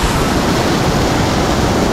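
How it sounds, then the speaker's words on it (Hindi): The Gori Ganga river rushes fast through a green Himalayan valley, a dense continuous roar of turbulent water, loud and close with no voices. "ये गौरी गंगा इतनी तेज़ी से बहती हुई, साफ नीला पानी"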